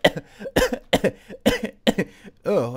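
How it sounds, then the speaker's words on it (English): A single person coughs five times in a quick, close, dry run, with a throat-clearing rasp at the end. "Let me cough real quick."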